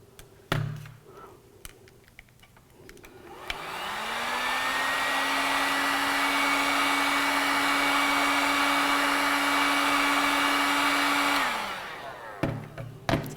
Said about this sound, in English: it may be necessary to warm it up with a hairdryer in order to bend it